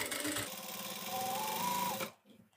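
A sewing machine runs a steady, continuous stitching burst on blouse fabric, close and loud for about two seconds before stopping abruptly into near silence.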